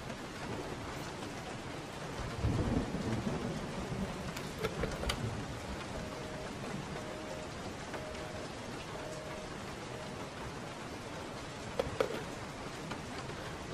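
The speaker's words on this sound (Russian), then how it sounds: "На улице дождик проливной" A heavy downpour and thunderstorm in Resident Evil 7: constant loud rain hiss, with rolling thunder swelling around the early seconds and a sharp crack near the end, no speech.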